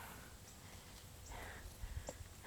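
A horse moving on the ground, a few soft hoof thuds and clip-clops near the end of the clip over quiet outdoor ambience, with no talking.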